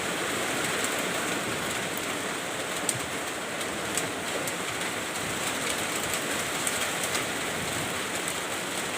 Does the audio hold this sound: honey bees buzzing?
no